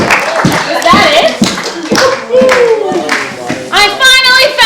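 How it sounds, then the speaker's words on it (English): Theater audience clapping during a live stage show, bursts of applause heard under loud, close voices speaking and laughing, with a short musical phrase near the end. "Let's have a huge round of applause to this brave and forgiving soul."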